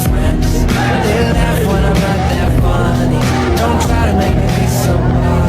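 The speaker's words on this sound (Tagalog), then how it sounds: "Traffic." Dense, loud street traffic at a town fiesta in Lucena, with engines rumbling and vehicles moving close by under a steady background of crowd chatter and voices.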